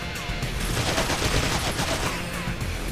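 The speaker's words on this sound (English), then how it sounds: "Will you please stop shooting at me?" Enemies firing on the player in a video game during a mini boss fight at a refinery, a dense burst of rapid gunfire that keeps going without a break, loud and close.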